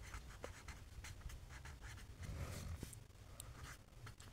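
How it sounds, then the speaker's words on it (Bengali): A pen scratches across paper in short, quick strokes and pauses, faint and close, with soft taps between the written marks and no talking. "শুরুতে লিখব দেওয়া আছে"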